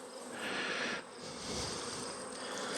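Honeybees from a small nuc colony buzzing in a close, steady drone, with a brief louder swell of wingbeats near the start.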